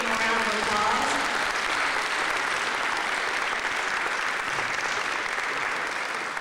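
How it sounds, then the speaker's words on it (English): A church audience applauds a visiting youth group from Lockport, a dense, steady wash of clapping that holds loud and even for the whole stretch, with faint voices mixed in beneath it. "Let's give them a round of applause."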